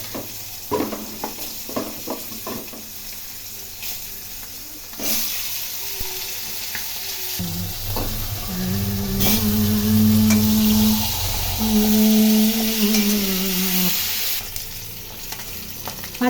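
Fish heads rubbed with salt and turmeric fry in oil for a mixed rice dish, opening with scattered pops and clatters before settling into a loud, steady sizzle that lasts until near the end.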